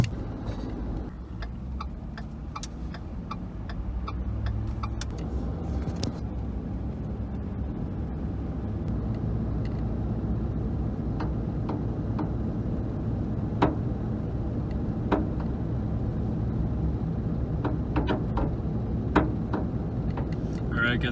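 A truck drives through the small lakeside town of Copper Harbor with a steady low engine and road rumble, scattered ticking clicks and a voice talking over it.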